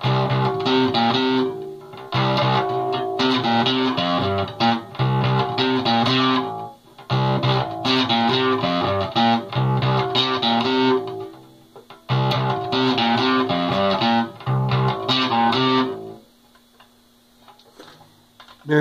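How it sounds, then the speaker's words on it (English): Distorted bass guitar plays choppy riffs in bursts separated by brief pauses, gritty and loud, ending with a sustained low note fading out. "I like to turn my distortion on so it sounds something like this."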